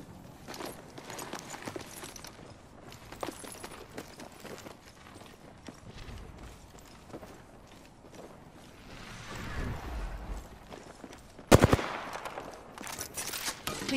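Gunfire in the Apex Legends video game: scattered faint pops over a low, busy background of movement, then a sudden louder burst of rapid shots near the end, followed by a few more cracks.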